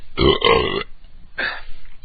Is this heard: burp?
yes